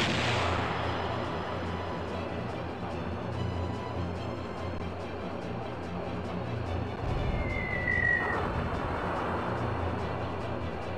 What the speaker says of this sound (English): I'll bet that our torpedoes can. We should be firing those as often as possible.